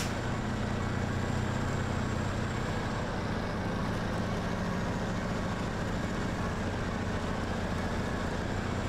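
A truck engine idles and rumbles steadily while reversing toward a trailer in the SnowRunner game on hard mode in Michigan, a continuous low drone with no breaks throughout.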